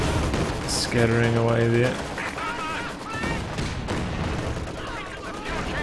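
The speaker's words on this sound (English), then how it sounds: "Oh, Katyusha firing over here." A Katyusha rocket launcher fires in the video game Company of Heroes 2, with rumbling, crackling rocket and battle noise amid distant explosions, under a voice talking over the action.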